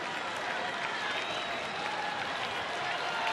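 Baseball crowd at a Texas Rangers game cheering and applauding steadily for pitcher Tanner Scheppers, a loud, continuous roar of many voices and claps filling the stadium with no break.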